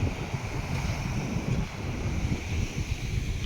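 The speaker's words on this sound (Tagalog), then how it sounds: "Medyo mahangin na." Wind buffets the microphone on the shore of Sarangani Bay at Kiamba, a continuous gusty roar mixed with a broad surf-like wash, steady and fairly loud throughout with no voices.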